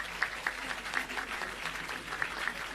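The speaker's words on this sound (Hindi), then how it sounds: "पूरा हॉल जोरदार तालियां बजाए, हाथ ऊपर करके जोरदार तालियां" A whole hall of students and guests at a Delhi school education awards ceremony claps, a moderate, continuous patter of many hands heard from some distance, with a few louder claps standing out.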